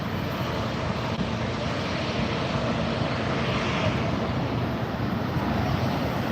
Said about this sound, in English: I see a British Airways taxiing up here